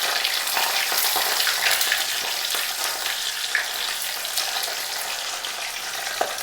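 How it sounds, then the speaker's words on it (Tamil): Cleaned dried fish frying in hot oil, a loud, steady crackling sizzle that fills the whole stretch, close up with no voices. "கருவாட்டை இது போல் க்ளீன் பண்ணி எடுத்துட்டு அப்படியே எண்ணெயில் போட்டு பொறிச்சிக்கலாம்"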